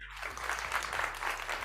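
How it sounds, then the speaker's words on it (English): Studio audience applause, a steady broad wash of clapping that swells in quickly and holds loud and dense throughout, with no voices over it. "You notice no applause for me, but applause for them"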